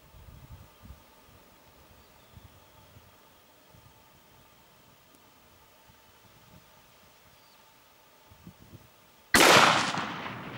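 A rifle shot fired at a fallow deer rings out suddenly near the end, a single loud close crack with a lingering rumble, after a long stretch of quiet outdoor ambience with faint rustling.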